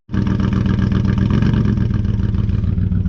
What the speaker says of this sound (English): So it's got a side exit exhaust on a 7 Series